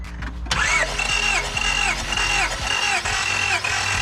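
A car engine cranks over on the starter during a compression test, with the gas pedal held to the floor, giving a loud, steady, rhythmic whirring churn after a short quiet start, close up, with no talking.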